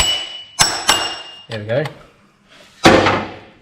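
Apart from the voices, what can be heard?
knocking on Hilux engine pulley to loosen it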